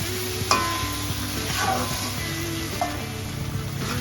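Pre-fried potatoes being stirred in hot oil in a pan, a continuous close sizzle with a few sharp spatula knocks.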